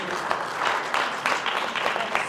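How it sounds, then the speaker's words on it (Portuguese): Applause from the audience at an Angolan 50th independence anniversary celebration, a moderate, continuous patter of clapping with distinct individual claps standing out, heard from a short distance. "uma salva de palmas"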